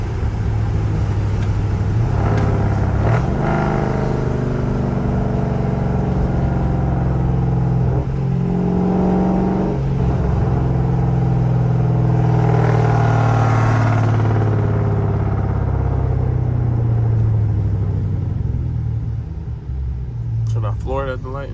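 A 392-swapped second-generation Dodge Charger V8 rumbles steadily from the cabin during a late-night drive, a deep continuous engine drone with a few rises in revs and one brief surge near the end.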